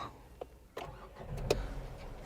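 Nissan Magnite AMT car engine starting: a short crank followed by the engine catching and settling into a steady idle, heard from close by inside the car.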